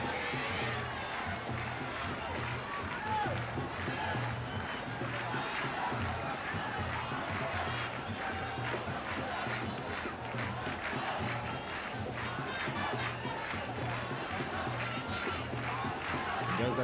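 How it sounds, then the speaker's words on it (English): A large cricket crowd cheers and roars continuously after a pulled four to the mid-wicket boundary, Sri Lanka batting against Kenya in 1996, with a steady rhythmic chant or drumming underneath. "The crowd's absolutely elated."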